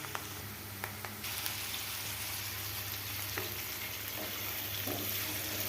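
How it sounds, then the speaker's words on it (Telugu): Ingredients with curry leaves and turmeric frying in a pan for a dry potato fry, a steady loud sizzle with a few stirring clicks, no talk. "వీటినన్నిటిని బాగా ఫ్రై చేసుకోవాలి."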